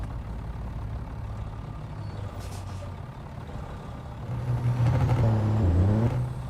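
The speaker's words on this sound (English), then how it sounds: "you can't hide a 14 litre hard limiter" A 14 litre truck engine in American Truck Simulator holds a steady rumbling drone, then surges louder as it revs against the hard limiter, with a brief air hiss in between.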